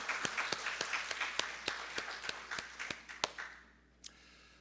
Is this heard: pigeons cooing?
no